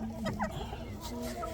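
Rhode Island Red egg-type hens cluck softly up close in a backyard flock, with short murmured calls over a busy background, and a voice speaks faintly beneath them.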